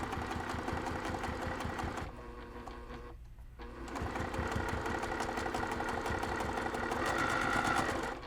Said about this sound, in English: I'm just gonna go really nice and slow. And I'm just stitching right in that center.